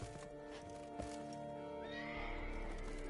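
Roach the horse neighs loudly and repeatedly in The Witcher 3: Blood and Wine, a close, shrill whinny with a rising cry near the end over steady game ambience.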